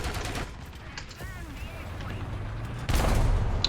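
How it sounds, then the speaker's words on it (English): Tank cannon fire in a World of Tanks-style game featuring a KV-1E, with steady engine rumble and a loud blast near the end, while someone talks over it. "Oh, look, something shot at us."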